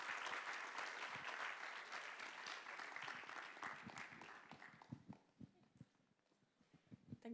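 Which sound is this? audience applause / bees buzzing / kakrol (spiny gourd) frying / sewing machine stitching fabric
audience applause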